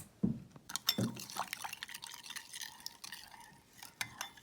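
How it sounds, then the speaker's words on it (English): A spoon stirs a yeast and sugar mixture in a bowl, giving a few soft liquid swishes, small clinks and drips, close and quiet with no talking. "So I'm gonna add just about a teaspoon in there. I'm gonna give it a little mix."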